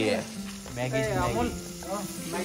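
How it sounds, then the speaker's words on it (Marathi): Sliced onion sizzles steadily in hot oil in a pan at a roadside Maggi noodle stall, a continuous frying hiss under loud overlapping voices and street chatter. "भाऊने टाकला कांदा. अब ये फ्राई होगा."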